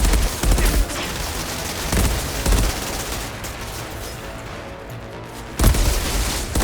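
Dense, loud rifle gunfire in the Outriders shooter game, with repeated sharp shots and heavier bursts over a continuous din of battle noise, including a strong blast near the end.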